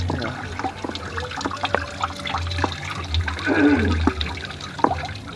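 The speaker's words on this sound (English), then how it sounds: "Now we're draining the radiator flush out of it." Radiator flush drains from a truck radiator in a continuous splashing, gurgling stream with irregular drips and knocks, loud and close, with no voices.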